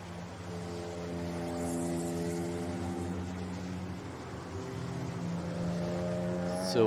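Race cars running on a slippery track at an endurance Grand Prix, a steady engine drone that holds at a moderate distance and rises slightly toward the end, with no voices over it.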